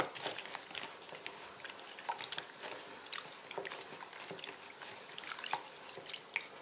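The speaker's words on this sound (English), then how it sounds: "Put some water in." Water is added to corn flour while cooking chickpea curry, giving a quiet run of small wet drips, splashes and squishy mixing sounds at an uneven rhythm, close by and soft.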